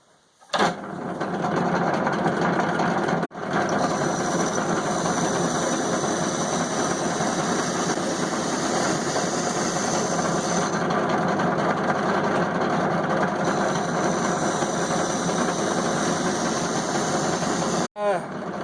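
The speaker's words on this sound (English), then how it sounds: "Just boring the centre out on this bit of stock." A lathe or boring machine cutting out the centre of a piece of metal stock for a tomahawk made from an old axe, a steady loud mechanical drone running throughout with two brief breaks.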